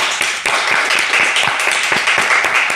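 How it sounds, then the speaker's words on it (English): Crowd at a startup pitch event claps for the founders, a loud, fairly sparse patter of individual hand claps sustained for a few seconds. "Round of applause, too, for all of the founders who got up on stage and gave us their minute pitch."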